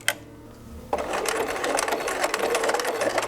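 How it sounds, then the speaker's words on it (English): A sewing machine running a zigzag stitch along a fold line on a tote bag; a short click, then a loud, steady mechanical whir that continues to the end. "we're going to double stitch or zigzag stitch right over that fold line"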